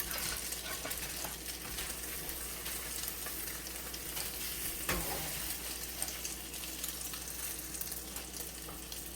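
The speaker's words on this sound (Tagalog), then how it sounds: "ating ipiprito na siya" Squash blossom omelette frying in a pan, a steady continuous sizzle with faint crackles and one brief knock partway through, close by and without talk.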